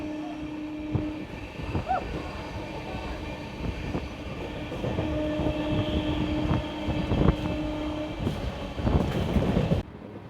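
An Amrit Bharat Express passenger train on the Patna–New Delhi run rolls steadily for about ten seconds, with a continuous rumble, faint wheel clatter and brief squeals near the start.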